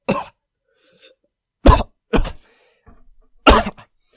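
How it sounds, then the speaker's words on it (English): A woman coughing repeatedly: a short burst at the start, then three sharp, loud coughs in an uneven rhythm with quiet breaths and small throat sounds between them. "you have the coughing incident where she just couldn't stop"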